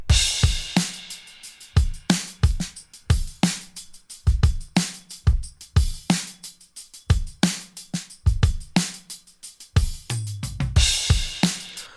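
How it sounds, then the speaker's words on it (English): A looped hip-hop drum kit recording, run through an Ampex tape machine: punchy kicks and cracking snares with hi-hats, repeating steadily and loudly with no voices. "So I've just gone ahead and looped the drums"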